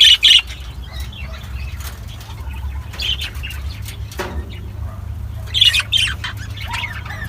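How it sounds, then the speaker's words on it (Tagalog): Lovebirds of mixed colours squawk sharply and flap their wings nearby, loud raspy calls at the start and again near the end over a steady fluttering, chirpy background. "Ito po guys yung mga lovebirds."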